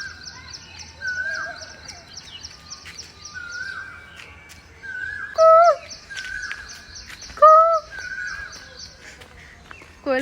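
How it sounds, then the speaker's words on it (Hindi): Bird calls ring out on a morning in Lucknow: repeated rising, whistled notes in short bursts, including two loud, close phrases, over a steady chirping bird chorus and faint ambient noise, with no talking. "कोयल भी बोल रही है।"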